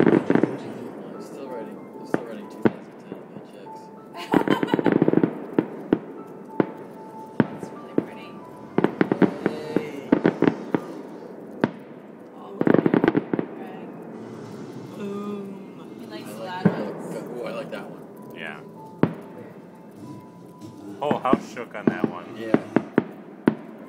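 A New Year's fireworks grand finale in Berkeley Heights, New Jersey, heard from about three quarters of a mile away: dense bursts of distant booms and crackling pops come in clustered volleys, with people talking quietly nearby.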